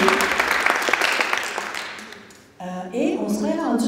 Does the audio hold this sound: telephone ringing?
no